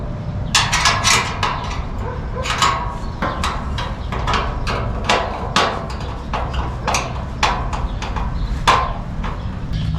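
A wrench tightens the outer bolts on the legs of a Harbor Freight 20-gallon parts washer, making repeated sharp metallic clicks and ratchet-like taps in irregular bursts, close up over a low background hum.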